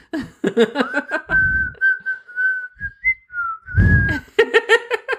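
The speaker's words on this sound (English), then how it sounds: "They start whistling away" A person whistles a wavering, sustained tune in an episode of the animated Star Wars Resistance series, with talk in between the whistled phrases.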